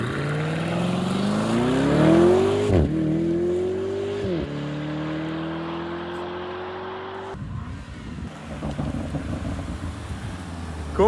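A Lamborghini accelerates hard down an airport runway, engine note climbing through rising gear pulls with shift breaks, wind rushing over the car, then easing off into a rougher, louder rumble as it brakes.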